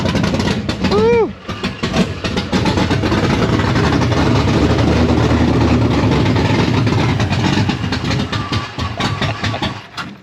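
408W stroker engine with solid roller cam and 12.5:1 compression idling loudly in a car, a heavy lumpy rumble with choppy rhythm; a voice shouts briefly over it early on.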